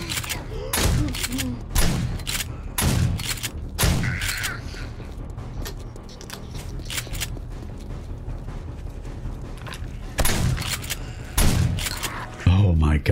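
A shotgun fires in the zombie survival game 7 Days to Die. Sharp, loud blasts arrive one after another at irregular intervals, mixed with game noise, while a voice talks over them.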